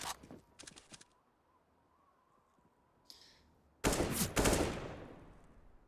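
Gunfire in Counter-Strike: Global Offensive during a professional ESL Pro League playoff match on the Nuke map: short bursts near the start, then a loud sustained volley of shots late in the clip, with quiet game ambience between.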